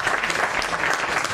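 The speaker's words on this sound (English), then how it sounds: "Please welcome Tripathi ji with a round of applause." An audience at the Bhopal Literature Festival applauding to welcome a guest, a dense, continuous burst of many hands clapping at close range, with no voices over it.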